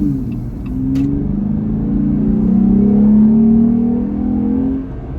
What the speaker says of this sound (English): You can hear that cold air intake